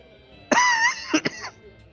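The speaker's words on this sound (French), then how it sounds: "je tousse et je crache en même temps" A person coughs hard and raspy during a tabletop role-playing session, one harsh throat-clearing hack followed by two shorter coughs, close and alone against a quiet background.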